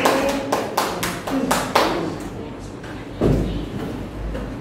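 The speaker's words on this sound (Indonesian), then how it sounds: "Beri tepuk tangan untuk kelompok 5." Classroom applause for a student group, a burst of several sharp, loud claps in quick irregular rhythm that thin out after a couple of seconds, followed by a few scattered claps and room noise.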